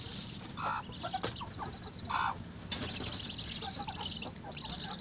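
A hen clucks in low, soft bursts while a brood of eleven chicks peeps in high, thin chirps around her. The sounds are close and continuous, with occasional rustling.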